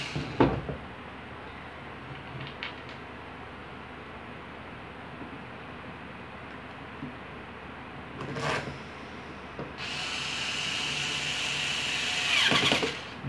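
Parts of a fan bearing kit being screwed together during assembly, with a few short bursts of a power screwdriver separated by quiet stretches and a longer whirring run near the end.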